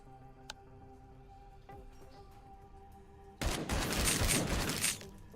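Gunfire from the turn-based video game Encased: a dense, loud burst of rapid shots lasting about a second and a half, standing alone after a quieter stretch of game ambience with faint clicks.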